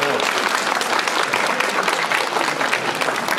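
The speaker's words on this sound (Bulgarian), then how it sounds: "Аплодисменти!" Sustained audience applause for kindergarten children of the Kalinka group at the official opening of a kindergarten's new building, dense steady clapping throughout with a light murmur of voices.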